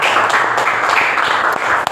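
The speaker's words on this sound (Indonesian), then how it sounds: "Beri tepuk tangan sekali lagi untuk Holly dan kelompok" Applause from students in a classroom for Holly's group, a dense steady patter of many hands clapping at once, loud and continuous without pauses.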